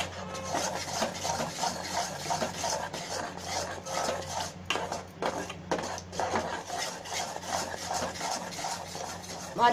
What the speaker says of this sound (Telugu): పంచదార పాకం శనగపిండి కలిసిపోయేటట్టు కలుపుకుందాం